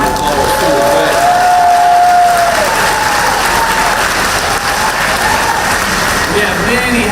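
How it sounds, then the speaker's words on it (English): A large rally crowd gives Secretary Leffler sustained loud applause with some cheering, clapping dense and continuous throughout with voices mixed in. "Let's give Secretary Leffler a big round of applause."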